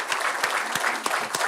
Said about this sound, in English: A round of applause again for Paul.